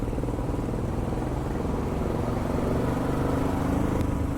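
A motorcycle climbs a winding ghat road near Lonavala toward Shirota Dam, its engine droning steadily and close throughout with a slight swell in loudness toward the end, no voices.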